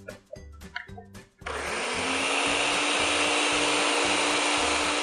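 A blender whirs steadily at high speed, blending a horchata mixture made with Mori-Nu tofu; it starts abruptly after a second of background music and runs loud and continuous, with music playing underneath.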